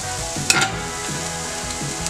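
Chopped onion fries in margarine or lard in a pan with a bright, continuous sizzle, punctuated by a few soft stirring scrapes, close and alone.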